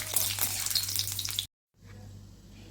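Hot tempering with curry leaves poured into a tamarind curry, a loud bright sizzle and crackle up close that cuts off abruptly, followed by a quieter simmering hiss.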